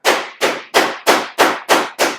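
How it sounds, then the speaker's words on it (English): Seven sharp blows from a heavy hammer on metal while fabricating a custom car roof, in an even rhythm, each with a bright ringing decay, close and loud. "Hit this with the heavier hammer."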